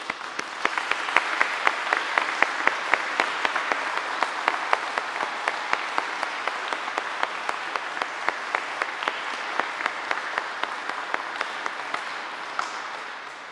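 A crowd applauds with steady, sustained clapping that holds at an even level before gradually tapering slightly toward the end.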